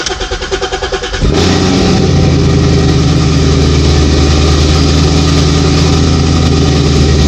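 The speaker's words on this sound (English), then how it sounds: "let's fire her up" Coyote V8 swapped into a classic Ford Mustang fastback cranks with a rhythmic starter chug for about a second, then fires and settles into a loud, deep, steady idle close by.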